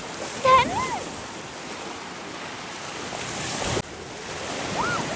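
Sea waves wash steadily on Kalapathar beach on Havelock Island, Andaman, a continuous surf roar with wind on the microphone and a few faint voices calling in the background.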